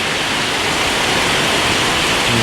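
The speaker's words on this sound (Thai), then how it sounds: "ฝนตกหนักขนาดนี้เขาจะอยู่ยังไงนะครับ" Heavy rain pours down steadily over a golden apple snail pond covered by shade netting, a dense, loud and constant hiss with no breaks.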